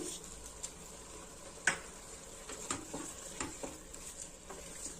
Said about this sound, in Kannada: ಇದು ಒಂದು 5 ನಿಮಿಷ ಫ್ರೈ ಆಗಲಿ ಎಲ್ಲಾನು, ಮಶ್ರೂಮ್ಗೆಲ್ಲ ಮಸಾಲೆ ಹಿಡೀಲಿ.